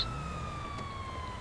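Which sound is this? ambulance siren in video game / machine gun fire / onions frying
ambulance siren in video game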